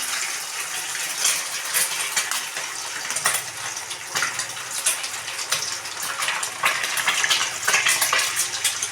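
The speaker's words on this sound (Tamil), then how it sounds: "இப்போ நம்ம முட்டையை உடச்சி ஊற்றிக்கலாம்" Eggs cracked into hot oil in a pan of beans and carrot stir-fry hiss and crackle with a loud, steady sizzle that swells and pulses throughout, no voices.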